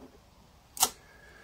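A Yashica Electro 35 GSN rangefinder camera under shutter repair gives one crisp, close mechanical click as it is wound on, standing alone against a faint, quiet room background.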